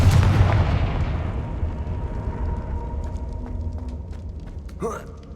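A Confringo fire spell blasts in Hogwarts Legacy, a loud booming burst at the start that rolls off into a long decaying rumble, with a short whooshing flare near the end.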